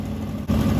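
A 421 small block truck engine idles high at about 1700 RPM, a steady loud close rumble with a slight step up in level midway through the short burst.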